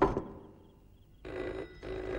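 A telephone rings in a quiet room, a short trill at the start and then two longer electronic ring bursts separated by a brief pause, moderately loud and close.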